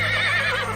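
A horse whinnies in one continuous, close neigh that rises and wavers as it stops on a trail toward a valley, over a steady low hum.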